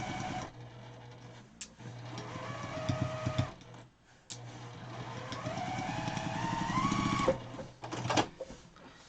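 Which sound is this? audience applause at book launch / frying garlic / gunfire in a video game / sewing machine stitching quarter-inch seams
sewing machine stitching quarter-inch seams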